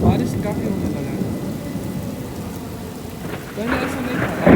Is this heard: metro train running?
no